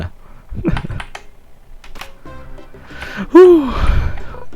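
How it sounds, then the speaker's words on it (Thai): Keys on a nearly broken computer keyboard clack in a few scattered presses while a game is being played, mixed with a sharp gasp-like vocal sound near the end. "เนื่องด้วยคีย์บอร์ดใกล้พังแล้ว กดพลาดบ้างก็ไม่เป็นไร"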